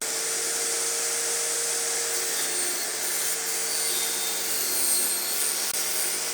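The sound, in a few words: saw cutting boards using a taper jig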